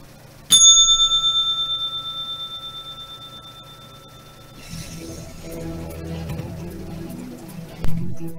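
A single bell is struck once, loud and close, its clear metallic tone ringing out and slowly fading over several seconds before soft background noise takes over.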